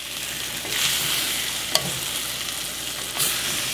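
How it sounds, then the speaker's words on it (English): Chinese sausage sticky rice sizzles in a pan while being stirred, a dense steady hiss with a few soft scraping sweeps and one sharp tap, close by, no voices. "Make sure to mix it nice and evenly."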